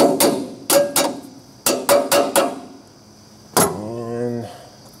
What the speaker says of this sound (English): Get my hammer here.